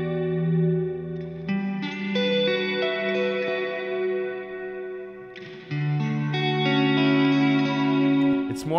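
An electric guitar is played through a Neunaber Wet Reverberator plugin with its attack control opened up, giving sustained chords a lush, washy reverb tail and sharper note onsets, heard alone and upfront.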